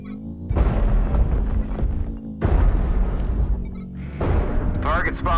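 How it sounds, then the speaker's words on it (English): Artillery strike explosions in a video game, three heavy booming impacts in succession with rumbling tails, loud and close, while a voice talks over them. "Artillery strike online. Artillery strike activated."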